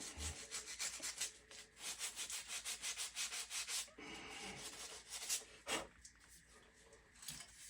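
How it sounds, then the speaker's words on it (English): Coarse 60-grit sandpaper worked over the chamfered edge of an axe, giving a quiet, rhythmic rasping in repeated back-and-forth strokes with a few pauses. "Go over it with your 60 grit."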